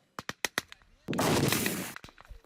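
Gunfire in news footage of fighting: a few sharp single shots, then a dense one-second burst of firing followed by scattered reports, moderately loud and without talk.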